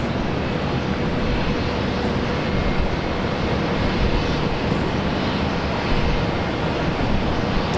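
A plane takes off from runway 19 left at Brisbane Airport on a morning, a continuous loud broadband engine roar that holds steady throughout with no voices.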